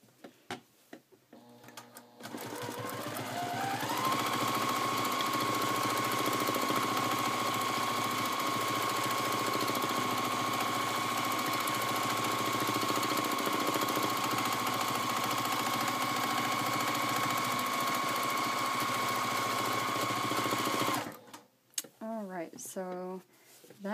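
A sewing machine running steadily for free-motion quilting on an orange quilt block, its motor whirring up to speed and holding a sustained hum for about twenty seconds before stopping, followed by a voice talking.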